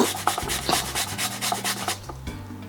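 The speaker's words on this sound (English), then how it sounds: "we're gonna just use our little Quizzy Pro here to grate" Half an onion rubbed against the coarse side of a Quizzy Pro hand grater, close and loud, in quick repeated rasping strokes of about four per second with a scraping, gritty texture and no talking.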